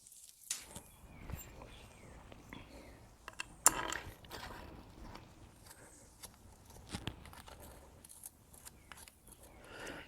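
Ratchet turning bolts back in on a Honda Africa Twin motorcycle, quiet close clicks and metallic taps in short irregular bursts, with handling noises and no talk.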